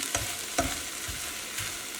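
Onions sizzle steadily in a pan, with several distinct scraping stirs at a slow, even rhythm, close and fairly quiet, with no talking.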